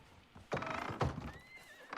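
Horses whinny loudly in the video game Icarus, two sharp neighs about half a second apart with a rising squeal trailing after, plus faint hoof clatter, with no talk over them.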